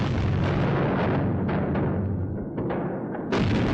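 Artillery shells fire in a 1944 Normandy battle, a dense run of heavy booms and blasts rolling together, loud and close, with a sharp fresh burst near the end and no voices.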